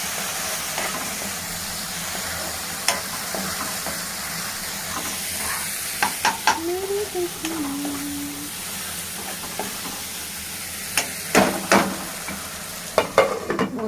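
Chilli powder and coriander powder being stirred in a frying pan for a tomato chicken curry, with a steady low sizzle and scattered scraping taps of a spoon against the pan.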